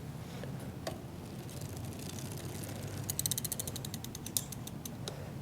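Gears on an ebike's rear sprocket shift, giving a quick run of clicking ratchet ticks over a steady low mechanical hum and creak, close by.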